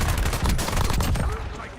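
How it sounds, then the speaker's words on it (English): Rapid video-game gunfire crackles in quick bursts, fairly loud and continuous over a brief stretch with faint voice chatter beneath. "Taking fire over here."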